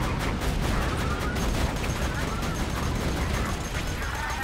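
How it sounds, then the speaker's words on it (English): An acid submachine gun firing in a video game: dense rapid automatic bursts rattle continuously at close range, loud and unbroken. "Go, go, acid submachine gun."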